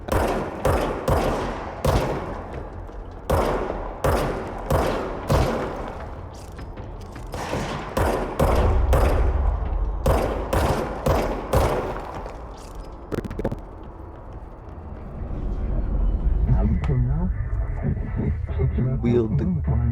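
Repeated bursts of gunfire from the video game Control, sharp shots in quick clusters through the first half, then a heavier rumbling stretch with scattered reports and ambient game noise.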